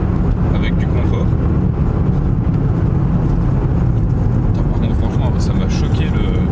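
A Citroen BX 1.9i's engine hums steadily while driving, a continuous low drone heard from inside the cabin, with talking over it throughout.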